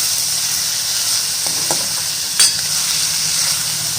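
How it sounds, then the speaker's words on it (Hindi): Chopped onions fry on low heat in a pan for a roasted-eggplant dish, a steady, fairly loud sizzle throughout with a few brief scrapes of stirring partway through and no voices. "थोड़ी सी देर अनियन को भून लेंगे"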